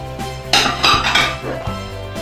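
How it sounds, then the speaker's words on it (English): Meat is added to a pot of afang soup, marked by close, loud metal clanks and scraping of utensils against the pot over a steady low hum. "Just add the meat to that."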